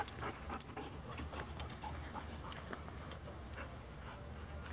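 A dog panting close by during e-collar training, quick soft breaths in a steady rhythm over a low rumble of outdoor background noise, with one or two faint whimpers and no talking.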